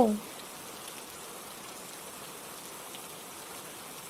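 Steady rain falls in a soft, even hiss, with a brief voice fragment at the very start.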